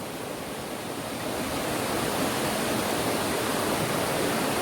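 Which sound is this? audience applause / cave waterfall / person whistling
cave waterfall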